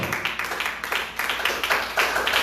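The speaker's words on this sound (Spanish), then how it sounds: "Dele ese aplauso al Señor" A church congregation claps rhythmically in steady, fast repeated beats, a dense crowd applause that keeps an even pulse from start to finish.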